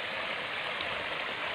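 A flowing river in Indang, Cavite: steady broadband rushing and gurgling water, constant and close with no pauses and no voices.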